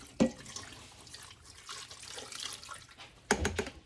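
Water poured into an Instant Pot over pork spareribs, a steady splashing pour with a sharp knock at the start and another near the end, close and alone.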